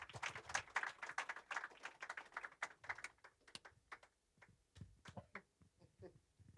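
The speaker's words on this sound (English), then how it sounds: "Please give them a big round of applause." Applause from an audience at a book release clinic welcoming two guests to the stage, a burst of clapping that thins into scattered claps, close and moderately loud.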